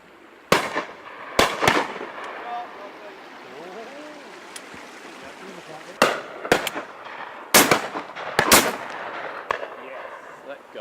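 Shotgun fire at driven high pheasants on a shooting estate, using Eley Hawk Zenith cartridges: sharp, loud single reports spaced irregularly, some in quick pairs, echoing across open country between quieter gaps.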